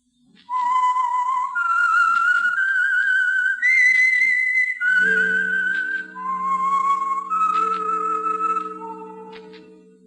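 A clear, close whistled theme for The Whistler radio program, a melodic phrase of sustained notes rising and falling, with soft orchestral accompaniment entering partway through.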